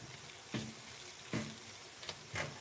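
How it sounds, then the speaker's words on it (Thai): Sausage stir-fries in oil for a curry with mixed vegetables, a soft sizzle broken by about four scraping stirs of the pan, quiet and close, with no one speaking. "ไส้กรอกก็จะผัดแล้วนะคะ ไส้กรอกผัด ผัดให้มันมีน้ำมันออกมาแล้วค่ะ"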